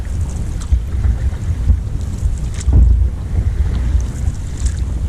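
Gusty wind buffets the microphone on Saganaga Lake in the Boundary Waters wilderness, a loud low rumble with steady roar and occasional swells, no speech.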